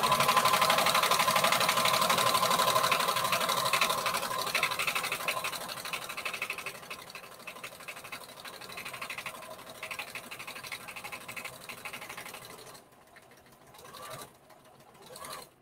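Sewing machine stitching a patchwork bandana T-shirt dress, a loud rapid whirring run that slows and fades, then stops, followed by short bursts of fabric handling and a brief restart near the end.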